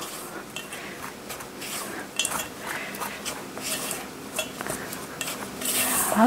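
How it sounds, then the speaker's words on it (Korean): A spatula stirs chocolate chip cookie mix in a bowl, scraping and folding steadily with light clinks against the sides, close and moderately loud, with no talking. "가루를 섞으실 때는 거품기는 빼시고 이제 스패츌러로 가볍게 섞어주세요."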